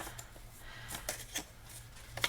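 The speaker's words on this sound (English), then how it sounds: "I'm going to grab a smaller pair of scissors." Small scissors snip through folded paper in a few quick, crisp cuts spread across a quiet tabletop, the last cut the sharpest, with no talking.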